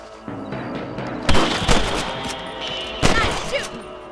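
Rifle shots aimed at rabbits in Red Dead Redemption: sharp, loud cracks, first a close pair and then a single shot a moment later, each trailing off over a low outdoor ambience.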